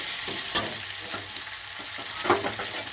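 Green chillies fry and sizzle steadily in a hot pan while a spoon stirs them, with two sharper scrapes against the metal and no voices.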